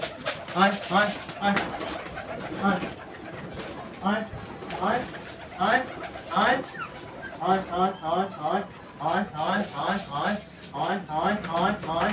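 Pigeons coo over and over in short, throaty bursts close by while being shooed into a cage, with people talking underneath.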